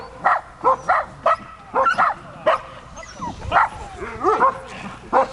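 Several dogs bark in quick, excited yips and bow-wows, loud and fairly close, some barks overlapping with whimpers and a brief growl-like note in a group setting.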